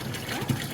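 Water gushes steadily into a can at a water filter point, a short continuous pour with a hollow, filling tone.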